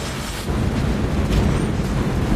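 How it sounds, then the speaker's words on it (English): A turret destroyed in a mobile battle arena game, a loud, continuous rumbling explosion roar filling the whole moment. "You destroyed a turret!"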